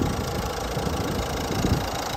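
A 2018 Citroen Dispatch 1.6 HDI diesel van sits idling with the aircon running, giving a steady, even engine drone close by with no speech.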